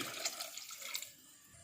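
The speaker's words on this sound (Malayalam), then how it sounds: "കുറച്ച് വെള്ളം ഒഴിച്ച് കൊടുക്കാം." Water splashes and trickles steadily for a moment into a pan of fish curry, then tapers off into a quieter hiss.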